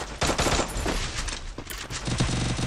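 Rapid automatic gunfire from the battle royale game Free Fire during a 4x4 wager match, loud and close, with bursts of shots rattling continuously and a brief lull midway before firing resumes.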